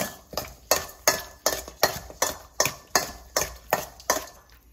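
Raw chicken being mixed with salt and soy sauce in a bowl for Korean braised chicken: about a dozen evenly spaced clinks and scrapes of a utensil against the dish, close and fairly quiet, with no talk.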